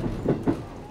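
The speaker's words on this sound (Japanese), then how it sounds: "この電車は快速奈良行きです。" A JR West Yamatoji Rapid Service train bound for Nara rumbles on the Kansai Line, with two soft low thuds of wheels over rail joints in a brief, fairly quiet stretch.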